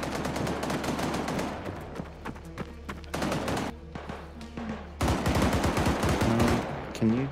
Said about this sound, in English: Boys, this outpost is taking fire.